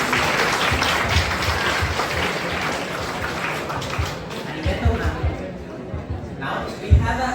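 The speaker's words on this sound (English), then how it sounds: "let's give a big round of applause for Mr. Vishwanathan." An audience at a seminar on opportunities in Japan for Indian youth claps steadily for several seconds, a dense patter of hands that slowly thins out, with some chatter mixed in.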